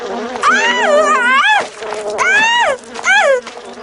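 A wasp buzzes in three loud, close bursts, each a droning whine that rises and falls in pitch, separated by short pauses.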